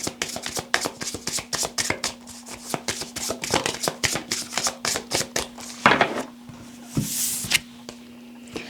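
Tarot cards shuffled by hand in a quick, steady run of crisp riffling snaps that continue for several seconds, close and clear with a faint steady hum underneath and no talking.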